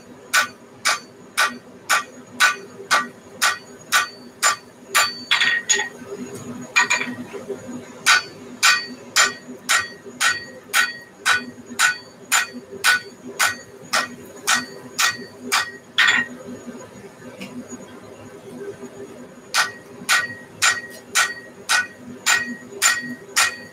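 A smith's hammer strikes hot steel while forging a Viking axe, ringing out in steady, evenly spaced blows. The runs of dozens of sharp metallic hits are loud and close, broken by short pauses with faint background sounds.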